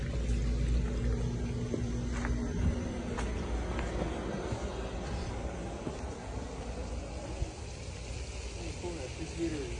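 Water pours and trickles into a basement or crawlspace drainage channel after the soil is cleared, a continuous close rushing wash with a low rumble beneath it, steady throughout.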